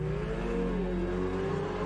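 Ferrari Portofino with a 3.9-litre twin-turbo V8 accelerating, a loud, close, steady engine drone that rises slightly in pitch, alone without voices.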